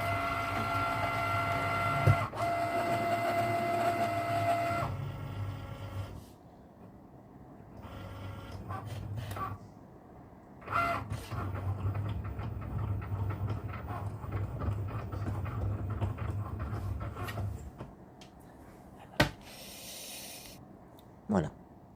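A Cricut cutting machine with a deep-cut blade on a purple mat cuts imitation leather, giving a steady mechanical whir with shifting motor tones and intermittent clicks and pauses, close and moderately loud.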